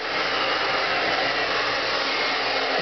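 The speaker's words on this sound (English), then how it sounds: "first time I get to dry my wife's hair. So let's give it a whirl here" A hair dryer blows on a woman's hair, a loud, steady, close airy roar that holds without change the whole time, with no voices.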